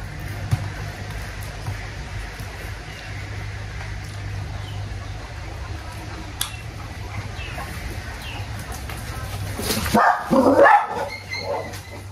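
Steady background hum and murmur, then near the end a dog barks a few times in a short burst, fairly close.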